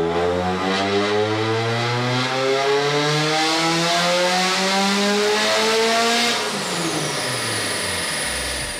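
A car engine fitted with a Rotrex supercharger runs a dyno pull after plug gap and ignition timing changes, a loud sustained roar with steadily rising pitch and supercharger whine climbing toward redline before dropping off near the end.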